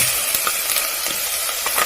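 Shredded carrots hit a pot of golden-fried ginger and coconut and get stirred, giving a brief bright sizzle with crackling, scraping stir strokes close by.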